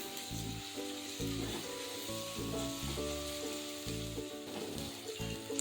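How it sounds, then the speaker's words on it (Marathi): Medium-sized onion sautéing in a pan after a pinch of asafoetida, a steady, fairly quiet hiss of frying running beneath melodic background music that steps through sustained tones. "आणि एक मिडियम साईजचा पान कांदा घालून छान परतून घेते"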